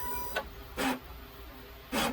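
Large format printer with a DX11/XP600 printhead running a cleaning cycle, giving three short whirring mechanical bursts separated by a steady low motor hum, close by and without speech.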